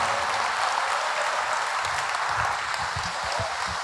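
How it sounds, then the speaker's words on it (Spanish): An audience applauds Carlos Tomada after his talk on labor and neoliberalism: steady, dense clapping from a crowd that holds at an even level for about four seconds, with no voices over it. "Bueno, fuerte el aplauso para Carlos Tomada."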